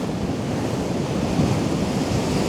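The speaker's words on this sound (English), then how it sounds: "Some big waves coming in." Big ocean waves break on a Central Coast shore near Sydney at sunrise, a steady, loud, continuous roar of surf and rushing water with wind buffeting the microphone throughout.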